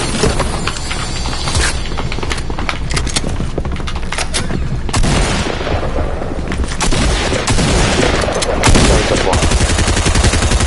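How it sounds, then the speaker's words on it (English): Loud, continuous Fortnite gunfire with rapid automatic bursts and booming shots that run almost without a break, mixed with mechanical clatter and game sounds. "Someone else is shooting."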